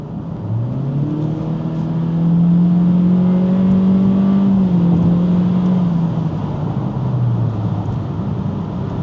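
A 2024 Acura Integra A-Spec in sport mode pulls steadily, its engine drone climbing in pitch, holding high, then easing off, heard up close from the cabin with a smooth, continuous tone.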